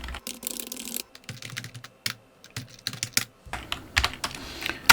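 Someone typing on a computer keyboard while entering text in a Hancom Office word processor, irregular close key clicks in short bursts with brief pauses between them.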